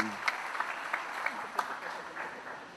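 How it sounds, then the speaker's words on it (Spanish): A fairly faint crowd applause spreads through a public speech event in Ucayali, with scattered sharper claps rising above a steady patter while voices murmur underneath. "Pido un fuerte aplauso por esta gran obra"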